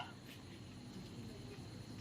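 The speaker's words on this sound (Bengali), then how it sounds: "চারিদিকে ঝিঝি পোকার ডাক" Evening crickets around a resort in Purulia, a faint steady chirring that carries on through the whole moment with a low background hum.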